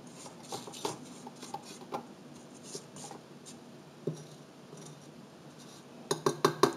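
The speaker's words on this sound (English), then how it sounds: "I just want to give it a scrape down." A spatula scrapes the sides of a mixing bowl of snickerdoodle dough in a series of soft scratches and light clinks, ending with a quick burst of sharper taps, quiet and close.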